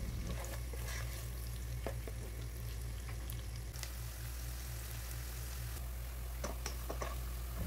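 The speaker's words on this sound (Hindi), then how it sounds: "सबसे पहले मैं ऑयल गरम करके इसमें स्लाइस्ड अनियन ऐड करूंगी और इसे हम फ्राई करेंगे" Sliced onions fry in hot oil for namkeen gosht, giving a constant crackling sizzle with scattered small pops and ticks throughout, close and unbroken, no speech.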